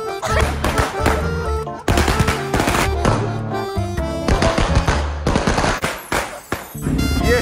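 Diwali firecrackers go off in rapid, loud bursts of crackling explosions, dense and continuous with brief pauses, close by and harsh across the whole range.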